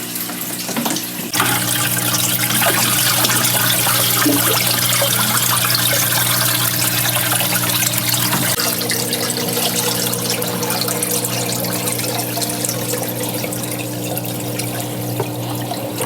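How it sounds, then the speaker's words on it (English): Salt water pours steadily into a saltwater aquarium tank, a continuous, fairly loud gushing and splashing that starts about a second in and runs unbroken to the end, with no talking. "now that we added the salt water into the tank"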